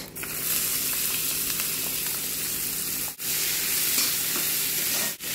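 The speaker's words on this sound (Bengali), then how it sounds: "হালকা একটু ড্রাই ফিশের সঙ্গে এখন পেঁয়াজগুলো ভেজে নেব।" Onions sizzling in hot oil with dried fish, a steady loud frying hiss with stirring, briefly cutting out twice, with no talking.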